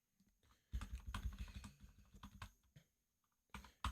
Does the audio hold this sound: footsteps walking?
no